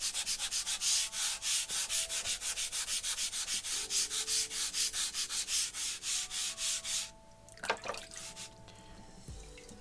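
A Rust Eraser block scrubs back and forth across a whetstone in a fast, even rhythm of rasping strokes for about seven seconds. A few wet drips and knocks follow.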